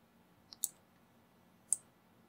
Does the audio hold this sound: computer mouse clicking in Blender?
yes